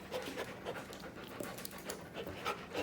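A dog pants rapidly and rhythmically up close, quick breathy huffs repeating steadily for a few seconds with no talking.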